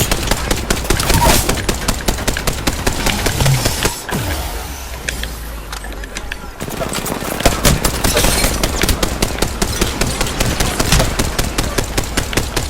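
Rapid, continuous automatic gunfire from a weapon in the video game Apex Legends, loud and close, with a short lull partway through before the firing resumes.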